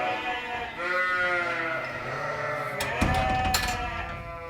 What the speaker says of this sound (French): on a la bergerie où prennent place les brebis